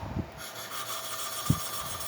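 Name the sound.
rubbing valve to smooth it, Suzuki Katana/Samurai valve lapping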